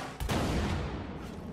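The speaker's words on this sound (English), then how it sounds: "Oh no, who's shooting?" A sudden loud bang of gunfire erupts, followed by a rumbling reverberant tail that slowly fades, heard close and alone.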